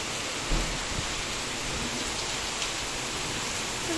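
Heavy rain pouring down outside onto a street that floods quickly, producing a dense, steady roar of rainfall with faint thuds, unbroken from start to finish.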